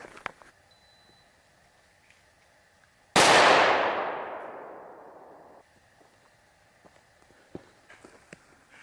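A single loud handgun shot fired at a target on a shooting range under a shot timer. It cracks sharply, then rings out in a long fading decay, with no other shots following.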